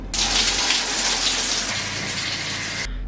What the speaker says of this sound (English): So that was just a water shower, no soaps, etc.